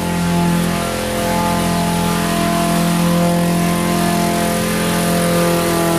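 A lawn mower engine runs steadily behind a barn, a loud continuous droning hum with no talking over it.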